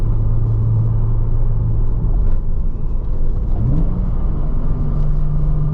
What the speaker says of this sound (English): You get that induction sound as well. It's right behind my ear.